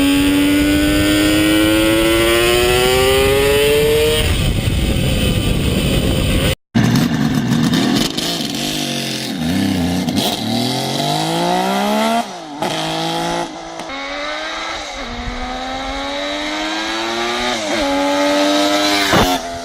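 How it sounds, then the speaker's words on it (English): A carbureted Kawasaki H2 750 two-stroke three-cylinder motorcycle engine revs loudly and up close, its raspy pitch climbing through a long rising rev, then cutting out and returning in a series of sharp blips and swells. "Old school, 2-stroke, carbureted 3-cylinder front from Kawasaki."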